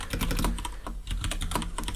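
Fingers tap rapidly on a computer keyboard while entering code in the Unity 5 editor, a close, continuous patter of clicking keys with a brief pause midway and no talking.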